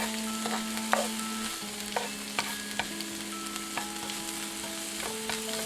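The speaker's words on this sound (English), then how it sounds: "now we're just going to roast our garlic a little bit" Garlic roasting and sizzling in a pan for a lemon pesto, stirred now and then: a soft steady sizzle under faint scrapes and clicks of a utensil, close and fairly quiet, with a low hum running underneath.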